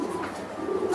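A racing pigeon gives a low, soft, throaty coo, close and continuous through the short moment with no talking.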